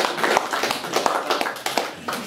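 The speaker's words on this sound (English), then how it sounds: "let's give her a big round of applause" Applause from an audience at a public event unveiling Browns Canyon National Monument legislation, honoring Jill Ozarski: dense, steady clapping from many hands, fairly close and sustained throughout with no talk over it.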